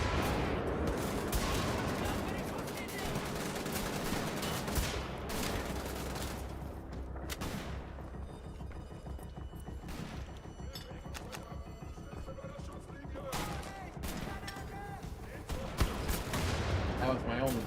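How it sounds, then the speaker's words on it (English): Video-game combat in a village: a grenade blast and volleys of gunfire crackle and boom throughout, with dense rapid shots and heavy thuds, while a player talks over the action. "That was my own grenade."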